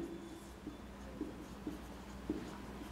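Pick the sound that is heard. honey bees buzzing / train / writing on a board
writing on a board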